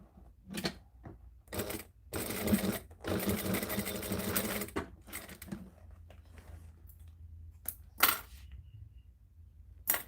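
Sewing machine stitching leather during the making of a leather piece, heard in short close bursts of rapid mechanical stitching with pauses and clicks between runs, no talking.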